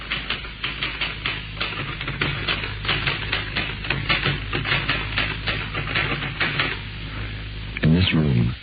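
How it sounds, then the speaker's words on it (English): Typewriter keys tapping in a steady, rapid clatter of sharp strikes through most of the stretch, from a 1969 radio drama, with a brief louder thud near the end. "the sound of the tapping of the typewriter keys is like knuckles on wood"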